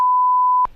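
A single steady electronic beep from an SMS text message notification, loud and pure-toned, holding for more than half a second before cutting off abruptly.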